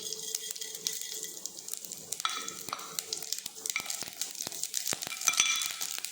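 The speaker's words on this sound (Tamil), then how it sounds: "இப்போ கடுகு, உளுந்து தாளிச்சுக்கலாம்" Mustard seeds and urad dal temper in hot oil with a bright, steady crackling sizzle broken by sharp popping and occasional spoon scrapes against the pan, close and moderately loud with no talking.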